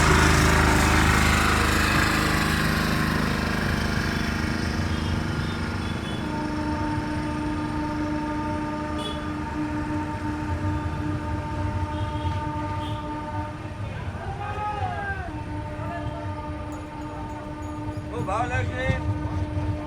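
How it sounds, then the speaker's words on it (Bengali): Amrit Bharat Express pulling out of Santragachi station on its inaugural run toward Varanasi, a loud rumbling roll of wheels and carriages with a long horn blast and crowd voices over it. "এই বেরিয়ে পড়লো ট্রেন সাঁতরাগাছি থেকে।"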